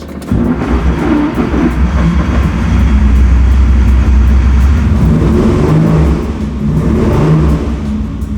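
Engine of a 1964 Ferrari 250 Lusso Competizione catching and revving, a loud, close, rough roar that swells and holds for several seconds before easing slightly.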